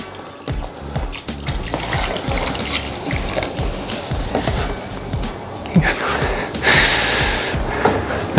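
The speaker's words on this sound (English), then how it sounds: "so you can add a fair bit more water" Water is poured from a watering can into a grow bag of Canna coco coir, splashing steadily near the listener with a few louder surges toward the end.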